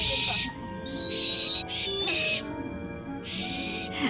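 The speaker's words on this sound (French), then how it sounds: "les chouettes effraies et les chouettes Harfan ne sont pas très discrètes" A barn owl or snowy owl gives a series of loud, harsh, rasping screeches in several bursts, close and unmasked, with faint ambient sound between them.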